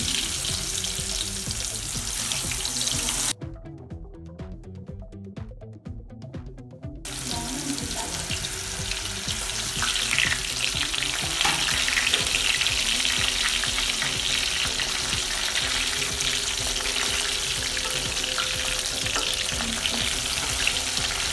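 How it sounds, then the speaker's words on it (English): Pieces of pointed gourd (potol) frying in hot oil in a pan, a steady broadband sizzle running throughout, loud and close, with a brief muffled dip early on before the crackling resumes strongly. "Once oil is heated, start adding potal in the pan."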